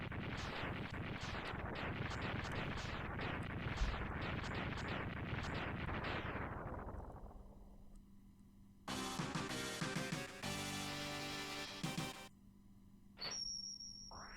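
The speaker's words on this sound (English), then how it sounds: "Now time for a 15-second long explosion scene." A long run of rapid, booming explosions from Mega Man X3 rumbles and fades, followed by bursts of bright, harsh game sound effects with no talking.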